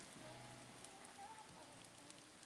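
Heavy rain drums steadily on a car, a dense continuous hiss and patter heard from inside, with a faint voice murmuring briefly underneath.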